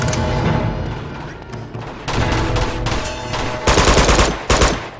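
Gunfire with heavy recoil in the video game Uncharted 2: Among Thieves, loud rapid bursts of automatic fire that come in separate volleys, growing denser and punchier toward the end.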